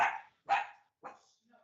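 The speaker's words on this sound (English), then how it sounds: "Let's say yes for the dog." A dog barks three times in a short burst, fairly close but not loud, with brief pauses between barks and the last one fainter.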